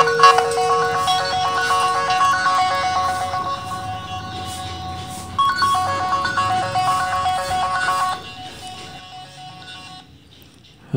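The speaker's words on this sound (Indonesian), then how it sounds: "Jadi bisa kita putar suaranya dari HP kita." A lost Samsung Galaxy S Duos smartphone rings loudly after being triggered remotely, its bright melodic ringtone repeating in steady phrases for about eight seconds before cutting off, with no talking.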